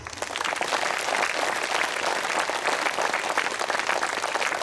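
A crowd at a Buddha Poornima celebration bursts into sustained, even applause, a thick wash of clapping that holds at a constant level throughout.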